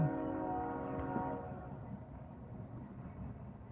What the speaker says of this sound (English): Can you hear the trains? I hear the train coming.